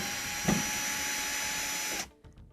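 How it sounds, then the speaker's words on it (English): Power driver backing Phillips head screws out of a Whirlpool/Kenmore gas dryer panel, a steady whirring motor run for about two seconds with a brief clunk, then stopping abruptly. "We're going to remove these two Phillips head screws."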